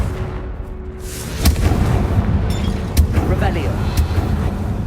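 Confringo explosive spell blasts go off in the video game Hogwarts Legacy, several sharp booming impacts about a second apart over a dense rumbling battle backdrop, with voices mixed in.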